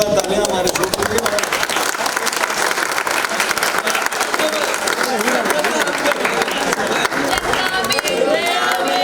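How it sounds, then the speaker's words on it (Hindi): Loud, sustained applause from an audience celebrating a TV serial's 100th episode, with dense clapping and crowd noise filling the whole stretch and some voices mixed in. "एक बार जोरदार तालियां हमारे ग्रुप के लिए।"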